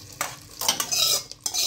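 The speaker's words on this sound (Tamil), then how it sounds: "முந்திரியை தாளித்து கோதுமை ரவையில் சேர்த்துடுங்க" A spoon scrapes and stirs tempered cashews into wheat rava upma in a pan, giving several short, close scraping strokes with a faint sizzle between them.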